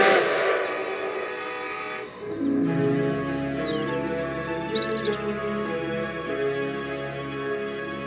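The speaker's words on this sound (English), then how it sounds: "With a chorus of whistles and honks, all the engines set off to work" Steam engine whistles and horns sound one after another as several engines set off, sustained and overlapping, with rumbling engine noise beneath, fairly loud.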